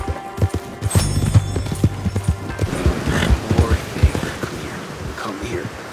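Horse hooves clip-clop at a quick pace in the Red Dead Redemption 2 game, with rustling and brief thuds around them, while a voice talks over the hoofbeats.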